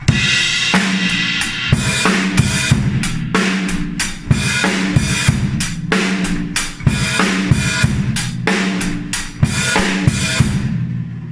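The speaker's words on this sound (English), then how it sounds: "The next groove is exactly the same but a little bit more involved because we've got the hi-hats opening and closing." A steady drum groove with kick and snare under a hi-hat pattern that opens and closes, giving sizzling accents in a repeating rhythm.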